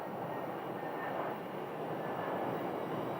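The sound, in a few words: airliner at Phoenix airport, Delta flight from Salt Lake City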